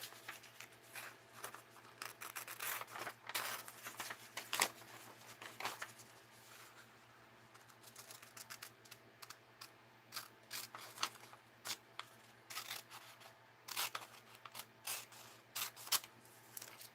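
Scissors snip through paper while cutting out pieces for a mixed-media art journal, a series of close, crisp cutting and rustling sounds with no talking.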